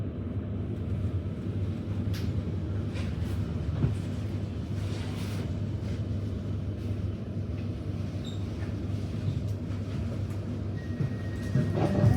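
A Melbourne Werribee line train on a weekday express run to Werribee, its steady low rumble and rolling rail noise heard from inside the carriage, continuous and even throughout.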